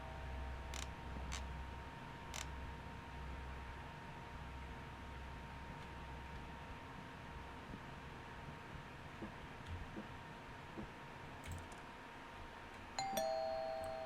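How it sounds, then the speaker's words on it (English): A doorbell rings in the horror video game Fears to Fathom: Home Alone, giving a few faint electronic chimes over a low steady hum, with a sharper, louder tone near the end. "Stop ringing the doorbell."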